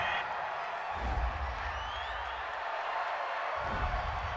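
A home football crowd in a large stadium roars after a penalty flag, a broad, steady wash of cheering that swells and stays loud throughout, heard from a distance.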